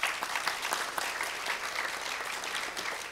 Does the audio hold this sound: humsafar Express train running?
no